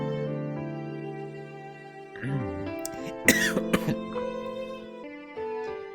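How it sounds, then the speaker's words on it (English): A voice actor narrating a Tsukihime visual novel lets out a sudden cough close into the microphone, a few harsh bursts with throat clearing that break into the steady narration around them. "just a cough came out of nowhere"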